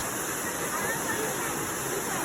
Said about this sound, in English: the secret waterfall,